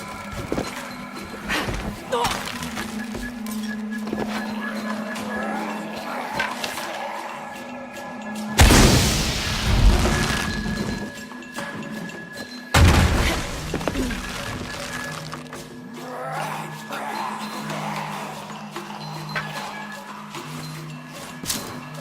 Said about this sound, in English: to create an explosion. Create an explosion.